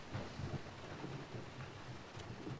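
Heavy rain pours steadily with low thunder rumbling throughout in the Assetto Corsa Competizione racing game, a dense, even wash of sound with no voices.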